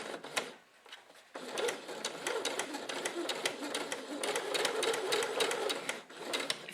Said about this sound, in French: Et je vais commencer à coudre normalement